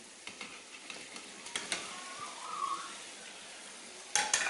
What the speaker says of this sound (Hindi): गोश्त को अच्छे तरीके से फ्राई करना है